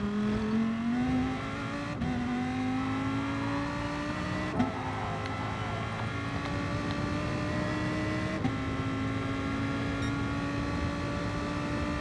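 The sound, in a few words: race cars overtaking in racing video game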